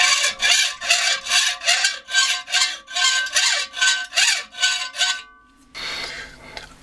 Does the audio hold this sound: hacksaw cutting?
yes